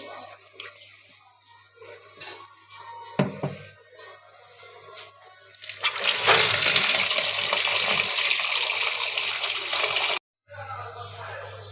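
Raw chicken pieces that were soaked in lemon juice are washed under running water, with scattered knocks and clatter first, then a loud steady rush of water that cuts off abruptly near the end.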